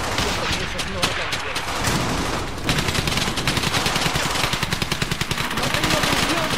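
Rapid machine gun bursts and scattered gunshots rattle loudly and almost nonstop in a Brothers in Arms battle scene, with voices heard among the firing.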